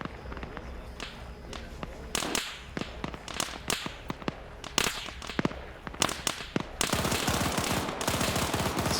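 Repeated gunshots and bursts of automatic fire in an Arma 3 battle, sharp cracks scattered irregularly at mixed distances before a dense, sustained volley of rapid shots near the end.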